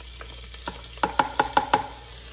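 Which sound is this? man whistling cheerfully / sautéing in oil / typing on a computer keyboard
sautéing in oil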